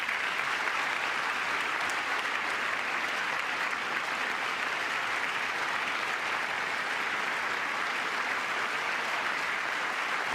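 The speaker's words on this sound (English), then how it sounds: "Maybe 3-4 Democrats clapping for that." Applause in Congress during a presidential address, a broad, even roar of many hands clapping that holds steady throughout without letting up.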